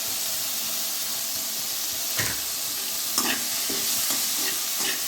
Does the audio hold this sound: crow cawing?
no